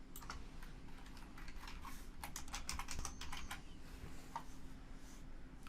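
Heading text being typed on a computer keyboard: rapid close key clicks come in a quick cluster and then thin out into a few single taps, all over a low steady room hum.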